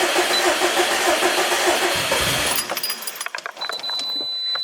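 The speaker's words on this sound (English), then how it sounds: "Just crank it till it starts." A Subaru STI engine cranks with a rough, rapid churning, then catches and settles into a lumpier running sound with sharp clanks and rattles near the car.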